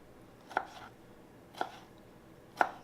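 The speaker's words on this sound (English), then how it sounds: "So I'm just going to keep dicing this up." Plum tomatoes are diced with a knife on a cutting board for salsa, three separate crisp chops about a second apart, close and clear against quiet room tone.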